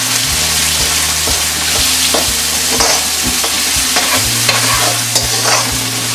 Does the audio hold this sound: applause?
no